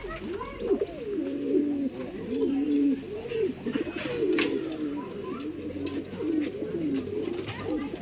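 Pair of cappuccino pigeons, near-adult birds, cooing close by in repeated rolling, wavering calls that run almost continuously, with faint background noise.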